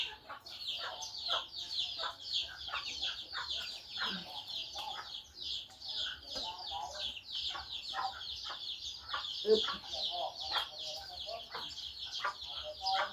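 Chickens clucking close by while being fed, a busy run of repeated short clucks with a brief grunting voice now and then.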